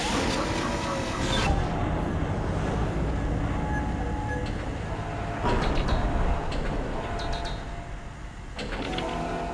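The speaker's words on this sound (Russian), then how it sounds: "Замена поврежденной вагонетки." Mine cart rolling on rails in the Dead Space video game, a loud continuous rumbling clatter with metallic screeches and clanks, swelling and easing as it moves along the track.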